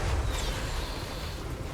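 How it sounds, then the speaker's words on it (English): Magma cannons firing in the video game Total War: Warhammer 3, a heavy, rumbling, fiery roar that holds steady and dense for under two seconds. "And my magma cannons are starting to attack as well"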